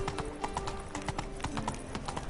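Hooves of Roach the horse in The Witcher 3 clop in a quick, regular rhythm, close and fairly clear, with ambient game sound around them and no talking.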